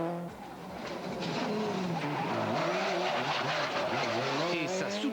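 Subaru rally car on unsuitable tyres in the 1999 Tour de Corse rally, engine revving and tyres scrabbling as it slides out of control, loud and continuous with a voice heard over it.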